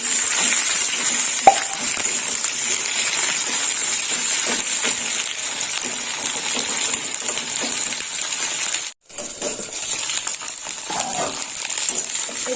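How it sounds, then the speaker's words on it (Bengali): Okra pieces fry in hot oil in a pan, giving a steady, bright sizzle with occasional light clinks and one brief drop-out near the end. "ভেন্ডিগুলো একটু ভাজা হবে"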